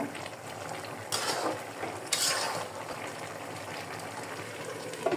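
A pot lid lifted and vegetables stirred, a low frying hiss carrying on with a couple of brief scraping, clattering bursts as the lid comes off and the spoon moves through.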